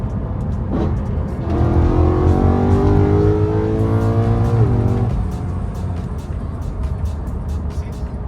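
A straight-piped BMW E92 M3 accelerates hard through the gears, its raspy V8 rising in pitch, dropping at a shift, then pulling again before fading into road and wind noise; loud and fairly close, no talk.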